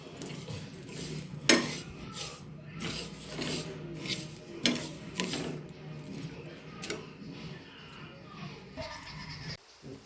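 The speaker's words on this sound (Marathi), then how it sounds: "म्हणजे मिक्सरला याला थोडं बारीक करणार" A kitchen mixer grinder coarsely grinds roasted sesame seeds, giving a continuous rattling, whirring drone with clattering bursts that stops abruptly near the end.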